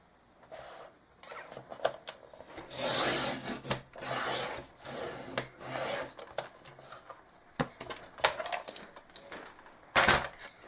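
A sharp blade cutter trimming paper for a mini album, with repeated close scraping and rasping strokes of varying length and some light clicks and taps, moderately quiet and with no talking.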